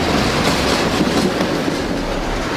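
A train rumbles past on the rails, a loud continuous roar with rhythmic clatter from the wheels and no voices.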